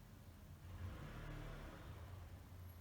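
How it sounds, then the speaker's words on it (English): A van driving past outside, heard from indoors as a faint, low engine rumble and whir that swells a little and stays steady for a few seconds. "I'm sorry about the van, not the car, I think, outside."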